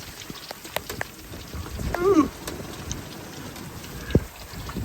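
Steady light rain patters on a sailboat, with scattered drips and taps; a voice briefly exclaims midway.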